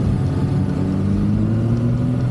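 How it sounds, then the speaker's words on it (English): The engine of a Kawasaki Ninja 7 HEV hybrid motorcycle cutting in at around 15 miles an hour, a steady low engine rumble with road and wind noise, continuous and close while riding. "It's about 15 miles an hour the engine cuts in."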